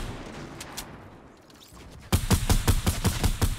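Rapid gunfire from a building video game bursts in loud, evenly spaced shots after a quieter stretch of game ambience.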